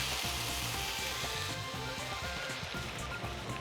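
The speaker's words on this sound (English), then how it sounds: "And we continue to fry for just 1 minute." Steady, dense sizzling of pumpkin and scallops frying briefly in a pan before chicken stock is added, close and continuous with no talking.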